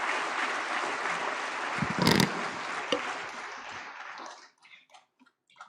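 Audience applause at an award ceremony in a large hall, a dense steady wash of clapping lasting about four seconds, swelling briefly midway before tapering to a few scattered claps.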